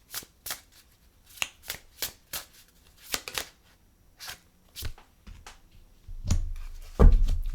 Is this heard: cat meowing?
no